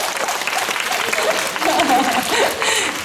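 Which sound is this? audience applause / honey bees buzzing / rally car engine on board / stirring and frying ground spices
audience applause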